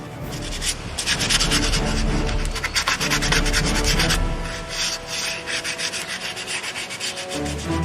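Steady rubbing and rasping across a chainsawed wood carving as its rough edges are smoothed, a continuous loud scratchy abrasion with brief pauses and no voices.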